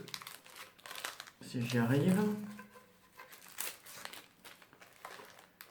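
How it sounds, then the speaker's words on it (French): Plastic wrapping crinkles and tears loudly at close range, crackling in bursts while a person speaks briefly. "je vais enlever les plastiques."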